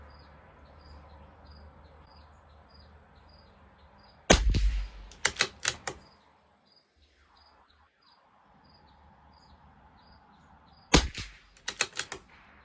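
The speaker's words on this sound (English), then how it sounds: "Okay, another 5 shots." Two close volleys of sharp rifle shots from a CZ 457 LRP rimfire firing RWS Special Match ammunition at 50 yards, each a quick string of cracks, over steady outdoor insect chirping.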